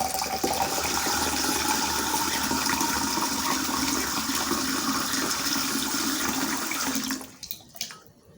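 Water poured steadily into a laboratory beaker during a sedimentation test, a continuous close splashing rush that runs unbroken for about seven seconds before stopping, followed by a few faint knocks.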